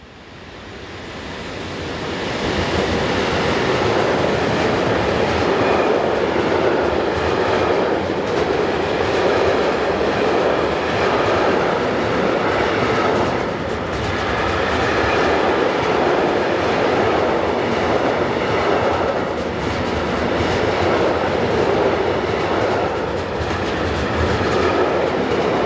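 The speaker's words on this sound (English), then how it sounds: "takes the platform road with this westbound container train" A westbound container freight train rolls steadily past on the platform road of a European line, a loud, sustained rumble with clickety-clack wheel rhythm lasting throughout, no voices.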